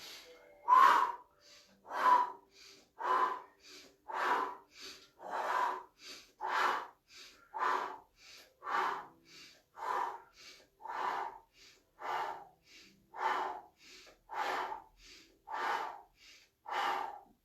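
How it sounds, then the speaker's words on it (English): Slow, regular deep breaths taken during a stretching exercise, about a dozen airy inhales and exhales in a steady rhythm, close and fairly quiet, with no talking. "So nice deep breaths in."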